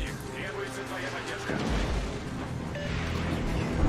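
Yamato armour-piercing shells strike in World of Warships Legends as heavy booming impacts and bursts over rumbling battle noise and music, with a voice talking throughout.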